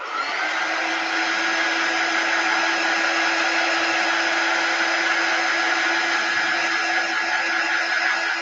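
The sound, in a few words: dryer drying the snowman's fabric nose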